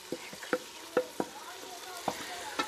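Green chillies, tomato and ginger fry in a pan with a soft sizzle, while a spoon clatters against the metal in quick irregular taps, close and fairly quiet, with no one talking.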